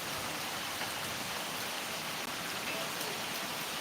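Steady rain pours down in Akola, Maharashtra, a dense, even hiss of drops on surfaces filling the air without a break.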